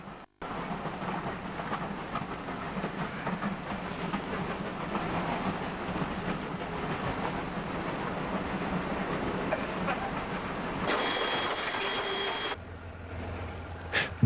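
A goods train hauled by a 48-class diesel-electric locomotive rumbles steadily past near Fernley Loop signal box, a loud continuous roar of wheels and wagons that cuts off abruptly near the end, leaving a low hum.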